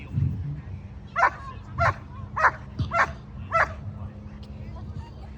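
A police K9 dog at a public demonstration gives a series of about five sharp barks and yips in quick succession, close and loud, with a low steady hum underneath.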